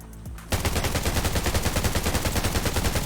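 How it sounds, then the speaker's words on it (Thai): An AK rifle in the video game Undawn fires a rapid, sustained automatic burst, loud and close, each shot evenly spaced, after a brief quieter moment. "ถึงกระสุนจะน้อยแต่ก็ยิงได้"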